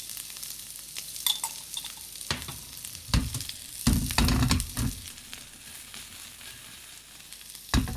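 Butter and garlic sizzle steadily in a pan, with a continuous close crackle and several louder bursts of stirring and spattering along the way.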